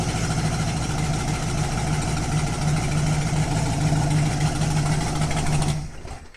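A 1970 Honda CB500 motorcycle engine runs after starting, a loud, close, steady throbbing rumble that holds for several seconds before abruptly cutting out as the engine dies.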